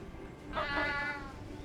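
A cartoon cat meows once from the game Cat Quest II, a short, soft, high call that rises out of faint background game sound and fades over about a second.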